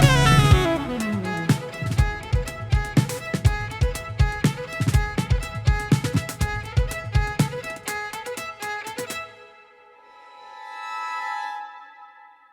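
Drums and violin play a few bars together, steady drum hits under sustained bowed notes, then cut off abruptly, leaving a faint ringing tail that fades out.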